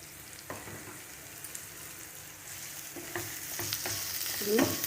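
Onions fry in oil in a pan for a kantola fry, a steady soft sizzle with occasional scraping stirs that grow a little louder toward the end, close by and without talk.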